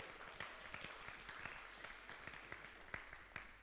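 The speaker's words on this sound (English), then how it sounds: "would everybody give Ryan a big round of applause here?" An audience claps for Ryan at a Sunday night church gathering, a steady wash of many hands with scattered sharper claps standing out, moderately loud and continuous without any talk.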